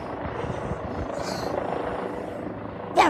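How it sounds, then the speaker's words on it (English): A police Eurocopter EC135 P2+ helicopter circles overhead at Bournemouth, its rotor thumping and droning in a steady loud mechanical churn with a brief louder burst near the end. "That is one noisy helicopter!"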